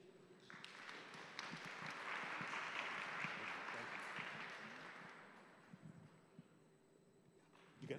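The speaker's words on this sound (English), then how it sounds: "another round of applause for our fine panelist speaker here" Audience applause for a panel speaker at a talk on migration and housing, swelling in after a moment, holding full for a few seconds, then thinning out to scattered claps and room noise.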